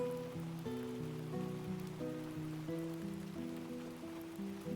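Rain falling outside makes a soft, steady hiss that runs throughout beneath quiet background music.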